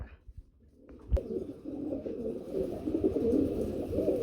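Pigeons on a farm coo in soft rolling throaty calls, a male and female pair among them, rising into a steady burble after a quiet start with a few faint knocks.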